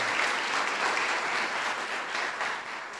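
Audience applause fills a church talk, a dense, steady wash of clapping hands from a large crowd, sustained evenly for about three seconds with no voices on top.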